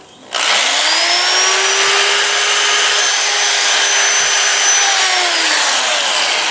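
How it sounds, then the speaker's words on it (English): A lathe spins up and runs steadily, its motor holding a constant whine while a white abrasive pad rubs over turned cherry wood with a continuous loud hiss and no pauses. "I'll use the white abrasive pad."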